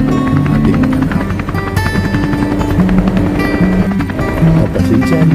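Helicopter in flight over the Devon coast of the United Kingdom, heard from inside the cabin as a loud, steady rotor and engine drone with a constant low throb and no voices.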